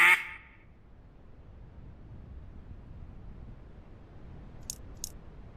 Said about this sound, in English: The ducks start quacking.